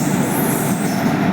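The Amrita Express at Kottayam railway station, a loud, steady rumble of rolling rail cars close by with no pauses.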